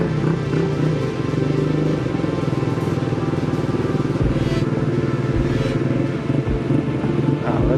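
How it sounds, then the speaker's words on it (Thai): Motorcycle revving as it rides through a flooded road underpass in Bangkok, a loud close engine rumble with throttle surges and splashing clatter throughout, no voices. "รถแรงรถแรง ยกขาขึ้นแล้วก็บิดไปเลย"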